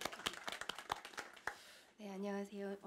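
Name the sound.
audience applause at panel discussion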